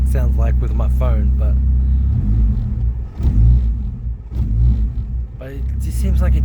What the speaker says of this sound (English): So we'll wait for the car to warm up and then hit some boost